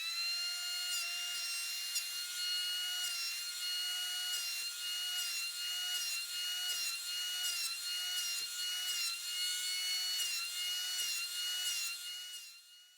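A power hand planer cuts through maple, giving a loud, steady, high-pitched whine with rough cutting texture. It holds for about twelve seconds before trailing off at the end.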